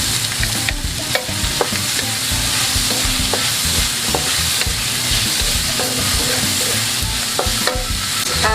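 Green onion whites stir-fry in a hot pan for pancit bihon, giving a loud, steady, close sizzle broken by repeated utensil clicks and scrapes, with no talking.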